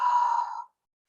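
A single slow exhale of diaphragmatic breathing, a soft close breathy sigh that fades out after about half a second into silence.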